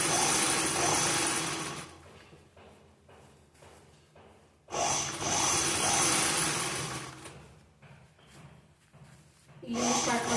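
A sewing machine runs stitches on an unlined blouse, whirring in three loud bursts with quieter fabric handling and breathy gaps between them, close up.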